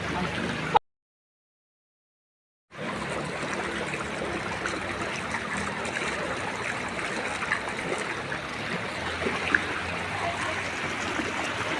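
Flood water after heavy rain in Avinashi, Tiruppur, India, rushes and churns continuously, a loud steady flow after a brief silent gap near the start.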